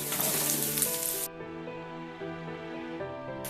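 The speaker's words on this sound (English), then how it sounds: "And on a high flame give this a nice mix" Fried chicken kebabs are tossed with garlic and ginger in a pan over high flame, giving a loud sizzle that drops away abruptly partway through and leaves a hum.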